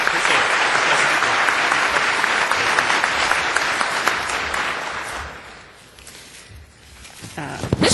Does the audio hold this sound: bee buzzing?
no